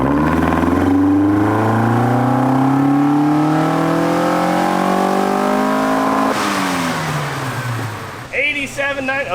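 Car engine revving hard at full throttle on a dyno, a loud sustained rising pull that drops off near the end, with voices talking over it.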